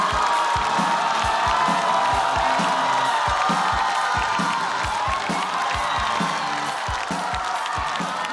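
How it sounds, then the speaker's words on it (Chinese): Studio audience at a stand-up comedy competition applauds and cheers as a comedian is welcomed onstage, a loud steady wash of clapping and whoops filling the whole stretch without letup. "让我们掌声有请小鹿。"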